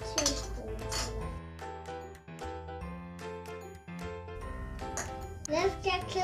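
Someone talks while a spoon clinks and tinkles repeatedly against a glass jar, stirring paint into water.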